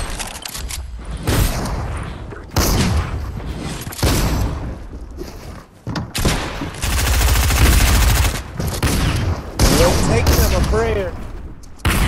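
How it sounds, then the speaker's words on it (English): Video game gunfire in rapid bursts, loud and close, with automatic fire and heavy booms broken by short gaps, voices occasionally under the shots. "What are you shooting at, fool?"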